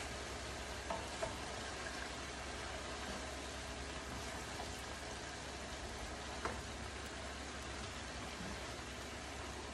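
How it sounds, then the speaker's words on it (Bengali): Vegetable bhaji fries in a pan with a continuous, even sizzle and occasional light taps and scrapes of stirring, fairly quiet and steady throughout with no voices. "ভাজিতে একটু নাড়া দিয়ে দিই"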